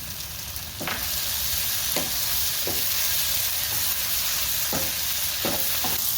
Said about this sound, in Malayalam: ചതച്ച് വെച്ചിരിക്കുന്ന ഇഞ്ചി, വെളുത്തുള്ളി, അല്പം കറിവേപ്പില, ഇതെല്ലാം കൂടി ചേർത്ത് വഴറ്റാം.